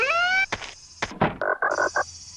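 Frog croaking in the video game Giftpia, heard outside the house as a close, loud series of short electronic croaks and thunks in uneven bursts, with a steady synthetic tone at the start and end and no talk.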